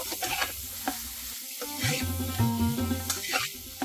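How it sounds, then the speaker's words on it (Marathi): Moth beans (matki) sauté in a spice masala in a pan, giving a steady close sizzle with scraping stir strokes and occasional clinks of the spoon. "आपण याच्यामध्ये सर्वप्रथम मटकी घालून ती परतून घेऊया"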